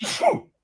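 A single short, sharp sneeze from a person during a live New York Rangers talk show, close and fairly loud, over quickly with no talking.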